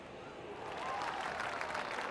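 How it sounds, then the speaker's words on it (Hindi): Spectators at a race start for athletes about to run laps and then cycle break into faint applause that swells slightly after a quiet opening, distant and soft with no speech over it. "इन एथलीट्स को आज बजने वाली हर ताली की जरूरत है। इनका हौसला बढ़ाइए।"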